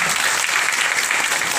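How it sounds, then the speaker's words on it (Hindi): A large audience gives loud, close, continuous applause, a dense, even roar of clapping hands with no break. "2000 तालियां"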